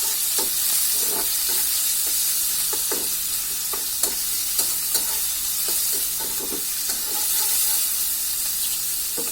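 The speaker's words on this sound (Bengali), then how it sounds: "এখন আমাদের যে ধুয়ে রাখা শুটকিগুলো আছে সেটা এর মধ্যে দিয়ে দিচ্ছি।" Washed dried fish (shutki) lightly frying in a pan sizzles and hisses steadily at close range, with frequent small spattering pops and stirring taps throughout, no talking.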